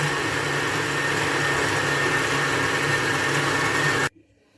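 An electric mixer whips egg whites in a steady, loud, close motor whir with a constant pitch, running without a break for about four seconds before it cuts off.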